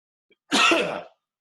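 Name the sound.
sneeze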